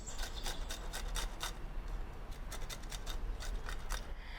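Green papaya being grated for Thai green papaya salad, a close, steady run of rhythmic rasping scrapes repeating quickly with no talk.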